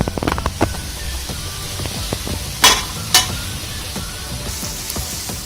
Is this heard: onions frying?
yes